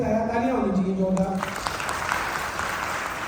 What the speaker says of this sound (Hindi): तालियां होनी चाहिए जोरदार।